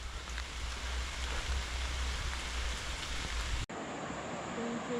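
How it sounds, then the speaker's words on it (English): Heavy rain pours steadily along the tropical Queensland coast near Cape Tribulation, a dense close hiss of drops drumming on surfaces, briefly cut off then resuming with slightly thinner texture. "raining a lot"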